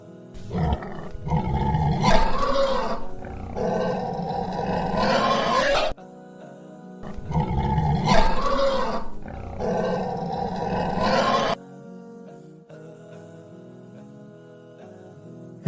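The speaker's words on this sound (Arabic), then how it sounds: "زئير الأسد." Lion roaring twice in succession, each a deep, rumbling, close roar trailing into grunts, with a short silence between, followed by a quiet tonal tail at the end.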